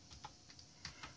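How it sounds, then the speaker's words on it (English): Commands being typed on a computer keyboard while setting up Raspbian on a Banana Pro board: a few faint, close key clicks in a short irregular burst over quiet background hiss. "So we're going to go ahead and type the commands"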